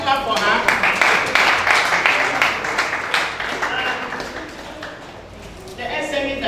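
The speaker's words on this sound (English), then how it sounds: "Please, can we clap for her?" An audience at a business round-table in Abia State breaks into sustained clapping, many hands together and fairly close, fading slightly before picking up again, with a voice speaking over it.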